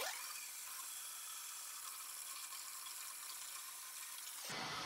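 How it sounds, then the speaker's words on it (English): Warm water runs steadily from a tap into a basin, a constant close rushing splash for several seconds that cuts off near the end. "we're gonna add some warm water to it."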